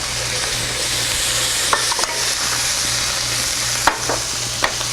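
Mapo tofu with chili oil stir-frying in a pan gives off a loud, steady sizzle and hiss. A few sharp scrapes and clinks from stirring break through, with no talking.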